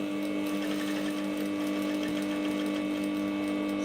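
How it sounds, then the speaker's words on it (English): Sewing machine running steadily as it stitches piping onto a puffy top sleeve, a close, continuous motor whir with a fast needle rhythm, no voices. "I'm going to stitch it down."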